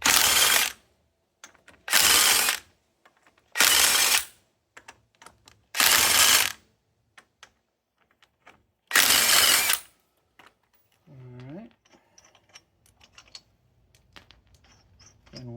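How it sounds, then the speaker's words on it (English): Impact driver zipping lug nuts off the wheel of a 2010 Ford Fusion during CV axle and shock replacement: five loud, clipped bursts about a second each, separated by short pauses, followed by quieter clinks and rustling of parts. "I strongly recommend that you have an impact driver for this job."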